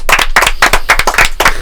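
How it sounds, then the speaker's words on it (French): A small audience claps for a columnist arriving on a live show, loud close hand claps in quick rhythmic bursts, with no talk over them. "on accueille tout de suite Fabien chroniqueur qu'on applaudit"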